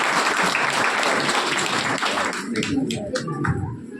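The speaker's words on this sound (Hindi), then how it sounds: "ताली बजाते हुए हम स्वागत करते हैं।" Audience applause welcoming a speaker at a gathering: steady, dense clapping from a crowd that holds strong for a few seconds, then thins into scattered claps as it fades.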